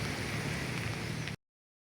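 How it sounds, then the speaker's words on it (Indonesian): Curug Cimarunjung waterfall in Geopark Ciletuh, Sukabumi, West Java, rushes as a steady broadband roar, close and loud, with rain falling, cutting off abruptly before the end. "Air terjun Curug Cimarunjung, Sukabumi, Jawa Barat."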